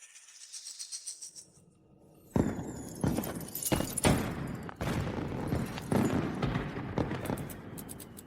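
Fireworks are set off. After a quiet stretch, a rapid series of sharp, loud bangs and crackles bursts out in an irregular volley.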